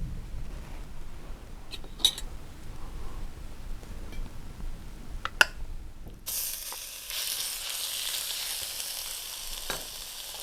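Spices and vegetables in a stir-fry pan, a few scattered clinks and taps at first, then a sudden steady loud sizzle of frying that continues to the end with an occasional utensil clink.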